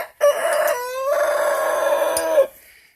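A rooster, an Isbar and Brahma cross, crows once loud and close, a long drawn-out call lasting a couple of seconds with no talk over it.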